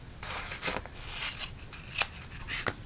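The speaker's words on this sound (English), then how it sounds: "get my gooey scissors that I use for sticky things, and I'm just going to cut here" Scissors snip sticky paper several times at an irregular pace, each cut a sharp crisp crunch with a faint sticky crackle, close up and with no voices.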